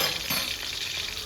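A spice masala with garlic, ginger, white and black pepper fries in a pan, giving a continuous close sizzle with faint stirring scrapes.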